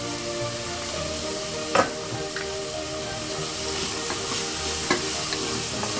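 Potatoes and coriander sautéing for mutton thokku hiss and sizzle steadily in the pan, with a spatula scraping through and a couple of sharper knocks against the vessel.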